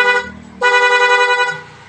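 A Honda Click 160 scooter's aftermarket horn sounds in short bursts: a brief toot, a pause, then a longer, louder blast lasting about a second, close and clear.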